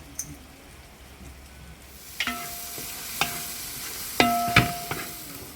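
Turmeric and chilli powder masala for beef and jackfruit sizzling in a pan, with a soft steady fry under a few sharp scraping stirs of a spoon against the pan, close and fairly quiet.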